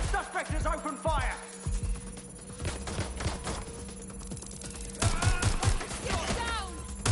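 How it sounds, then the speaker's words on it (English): Gunfire in the video game Watch Dogs: Legion, with repeated sharp shots in irregular bursts, loud and close, mixed with game voices shouting and other in-game effects. "Suspect has opened fire!"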